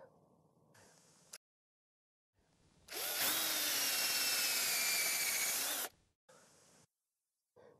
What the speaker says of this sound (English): Drill each hole about 2 to 3 inches deep, slanting slightly upward into the trunk.